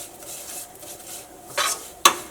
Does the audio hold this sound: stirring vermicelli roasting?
yes